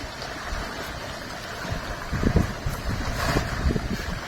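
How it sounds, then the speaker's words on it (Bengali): Stormy wind gusts over open water during rainy-day fishing in the Sundarbans, a continuous rushing, buffeting roar against the microphone that grows stronger and choppier in the second half, without speech. "ব্যাপক তুফান"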